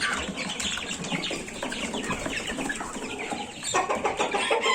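Several roosters on a farm cluck and call over one another, with wing flapping mixed into a busy, steady flock noise that rises a little louder near the end.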